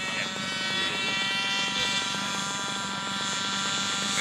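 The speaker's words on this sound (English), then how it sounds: "Rotation and takeoff successful inside the 200-foot line." A model aircraft at the SAE Aero Design East competition makes its takeoff roll and climb, its propeller engine giving a steady, loud, high buzzing drone that holds throughout with no voices over it.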